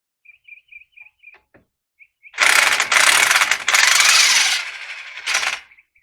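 A hand ratchet working on a GMC Yukon Denali truck's front passenger-side hub assembly: light isolated clicks at first, then loud, close bursts of rapid ratcheting with short pauses between strokes.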